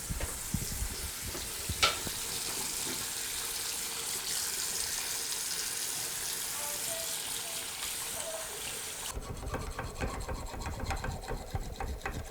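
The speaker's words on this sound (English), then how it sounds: "take it and wash it with soap and warm water to remove that" Nerf Fortnite Hand Cannon blaster parts being washed with soap and warm water under a running tap, a constant close hiss of water with light scrubbing and handling clicks, then a sharp change to a quieter, rougher texture near the end.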